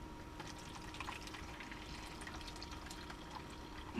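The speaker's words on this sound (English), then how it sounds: "I want to get rid of the water that's in with the veggies" Water drains from vegetables into a container, a quiet, steady trickle and splash that runs continuously at close range.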